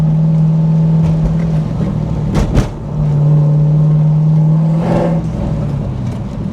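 A deep cammed V8 engine drone from a C5 Corvette hums steadily, briefly dipping and then revving back up with a throaty rumble.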